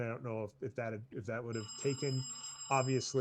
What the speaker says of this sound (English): I have it set up to sound like an old-fashioned phone.